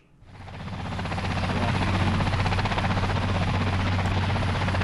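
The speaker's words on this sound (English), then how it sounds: "Helicopter." Steady, loud helicopter rotor and engine drone that swells in after a brief quiet start, then holds continuous with a strong low thump throughout.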